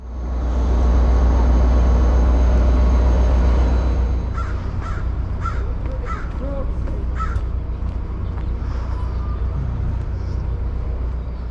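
A CalTrain passenger train hauled by an F40PH-2 diesel-electric locomotive gives off a loud, steady low rumble that eases after a few seconds, while crows caw repeatedly nearby over it.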